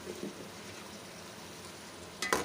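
Sliced tomatoes fry with minced meat in a pan, a steady, soft sizzle with no talk, ending in a brief louder burst of crackle.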